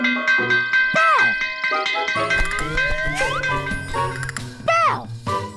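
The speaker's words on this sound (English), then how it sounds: "This is a bell." Bright bells ring and jingle repeatedly with swooping tones and whistling effects, loud and busy, with a voice mixed in.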